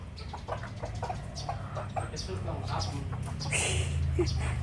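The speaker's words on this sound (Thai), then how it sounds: "ไก่ซิลกี้ ชอบกินผักบุ้งมากมากเลยนะ" Silkie chickens cluck and chirp softly close by while eating water spinach, over a low background hum, with scattered quick pecking sounds.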